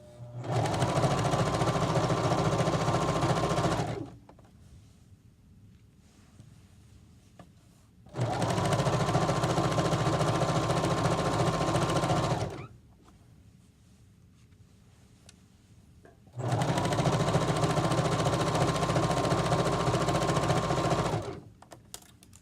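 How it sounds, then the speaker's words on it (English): Sewing machine stitching a pillowcase, running loud and steady in three bursts of about four seconds each, separated by quieter pauses while pins are pulled. "You're sewing, pulling pins out."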